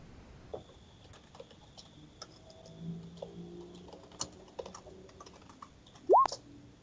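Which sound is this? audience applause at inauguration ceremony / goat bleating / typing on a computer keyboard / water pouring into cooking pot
typing on a computer keyboard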